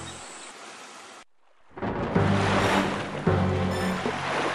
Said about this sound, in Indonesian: seketika itu angin bertiup kencang dan menggoyangkan sebagian badan kapal